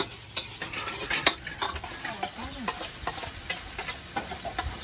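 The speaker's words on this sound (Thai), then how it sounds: "นางกำลังผัดข้าวนะครับพี่น้องขา" Rice being stir-fried in a pan, with a steady bed of sizzling and frying broken by repeated sharp scrapes and clinks of a utensil against the metal, close up with no talk.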